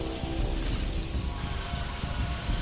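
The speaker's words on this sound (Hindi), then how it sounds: "भारी बारिश ने यूपी के कई शहरों में तांडव मचाया।" Heavy rain pours down steadily in a flooded street in Uttar Pradesh, a dense, continuous hiss and patter that stays loud and unbroken throughout, with no voices.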